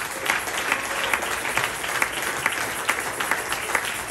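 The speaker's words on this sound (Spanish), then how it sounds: "Le damos fuerte aplauso al Señor." Loud, sustained applause from a church congregation at a worship service, dense clapping filling the full four seconds with no voices over it.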